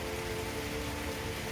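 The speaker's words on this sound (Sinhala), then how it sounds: "මේ දවස් ටිකේ හැම වෙලාවකම වහිනවා අප්පා" Steady rain falls as an even, dense hiss with no gaps, heavy and close, during a rainy-season day at a home kitchen.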